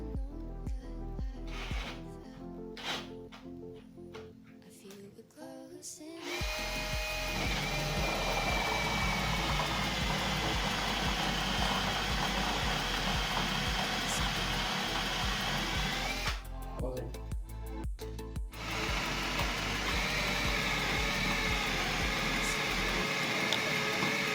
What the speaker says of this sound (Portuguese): E agora a gente vai entrar com a broca de 5 milímetros, que é a própria para fazer a rosca M6